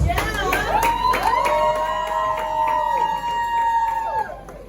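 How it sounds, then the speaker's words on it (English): A festival crowd cheers with sustained whoops and shouts layered over scattered clapping, loud and lively, with voices calling out over the noise. "Can we give God a round of applause?"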